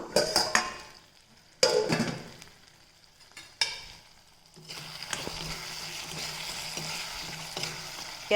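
Tomatoes frying in oil in a pan and stirred with a spatula, close crackling sizzle broken by scraping stirs and clatter, settling into a steady frying hiss.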